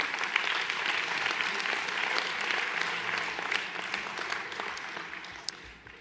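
Audience applause at a town hall New Year's greetings ceremony in 2020, steady and dense, with many people clapping together for about six seconds and fading slightly toward the end.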